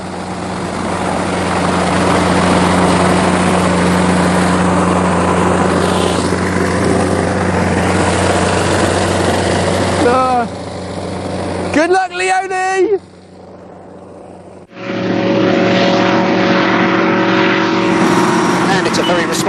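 Steady droning of a small propeller aeroplane engine, loud and close, with a few brief dropouts and shifts in pitch near the end.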